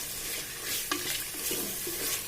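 Mutton sizzling and frying in oil in a pan with a few stirring scrapes, steady crackle throughout.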